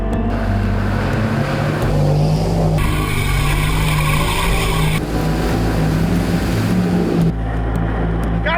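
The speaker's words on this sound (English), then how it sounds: "low range, second gear, 2 lockers, and foot to the boards" 4WD in low range, second gear, with two lockers engaged and foot flat to the floor, engine roaring loud and close throughout, with gritty churning and occasional surges and dips as it strains.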